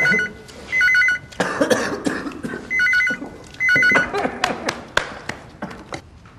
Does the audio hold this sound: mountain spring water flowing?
no